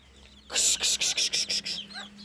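Bantam and mixed chickens on a farm give a burst of rapid clucking, about seven sharp close calls in a quick rhythm, with a faint low hum underneath and quiet surroundings before and after.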